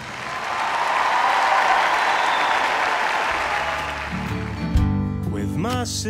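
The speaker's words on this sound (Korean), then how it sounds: "피겨 여왕 김연아의 갈라쇼 연기에도 관중들은 가장 뜨거운 박수를 보내주었습니다." Audience applause at a figure skating gala show featuring Kim Yuna, a broad roar of clapping and cheering from a large arena crowd, with music and other sounds rising beneath it toward the end.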